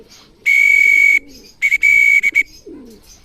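Racing pigeons at a loft during a race's final lap, with sharp, loud whistle blasts in two bursts over soft cooing and bird calls in the background.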